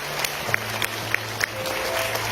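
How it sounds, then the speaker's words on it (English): A room of people at a school assembly claps, with scattered individual hand claps standing out over a constant background murmur. "requires a round of applause"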